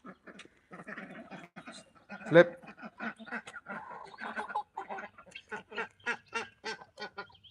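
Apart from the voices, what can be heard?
young rooster and chickens wanting dinner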